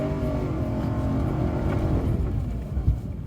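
A 2022 Ram pickup truck spins donuts in first gear on soft, torn-up ground, its engine droning and revving loudly and steadily up close, with a brief louder surge near the end.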